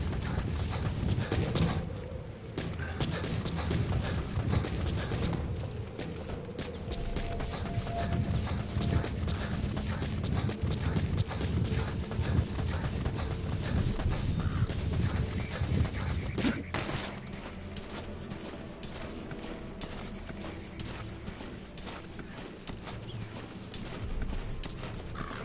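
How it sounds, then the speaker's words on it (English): Steady clip-clop of horse hooves trotting at an even rhythm in the video game Metal Gear Solid 5, close and fairly loud, continuing for a long stretch and easing off near the end. "The horse is moving."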